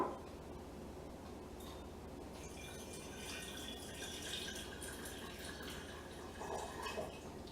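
Hot water is poured into a jar with a soft, continuous trickle and gurgle close by, filling steadily and faintly with no talking.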